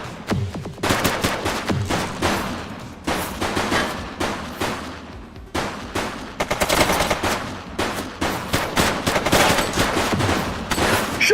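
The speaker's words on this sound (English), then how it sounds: "Shots fired!" Loud, close gunfire fills a firefight in The Precinct, with repeated bursts and rapid volleys of shots separated by short pauses, growing denser toward the end.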